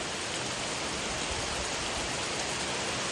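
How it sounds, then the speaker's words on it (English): Heavy rain pours down on the forest along the Appalachian Trail in New Jersey, in a steady, dense hiss that fills the whole clip without a break. "It is just pouring."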